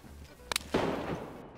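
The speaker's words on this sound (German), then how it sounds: "Schuss. Noch ein Schuss." Gunfire in the PlayStation 4 game DayZ during a fight in Zeleno: a sharp double crack followed by a louder, booming shot with a short decay, fairly faint overall.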